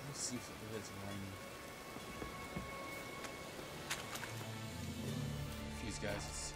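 Rain falling in The Witcher 3 Wild Hunt, a steady hiss of drops hitting surfaces throughout, with voices talking over it.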